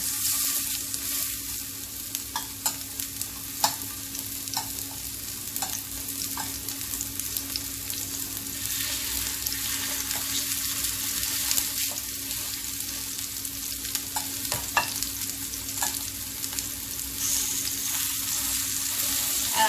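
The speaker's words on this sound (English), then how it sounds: "just leave these kababs in the oil like this" Turkey kababs fry in oil in a pan over a lowered flame, a steady close sizzle and crackle throughout with scattered sharp pops and occasional spatula taps, no voices.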